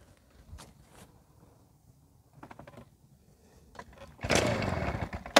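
Stihl BR420 backpack blower engine being started after restoration: a few scattered knocks and short pull sounds, then the two-stroke engine catches and roars loudly close by for the final second.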